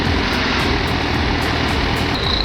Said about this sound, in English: Another dozer claws its way in, cable tight, engines roaring.